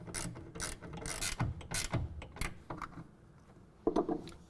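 A ratchet tightens a clamp on the T-slot rails of a RetraxONE XR manual retractable tonneau cover, giving quick bursts of close, crisp clicking with short pauses between strokes.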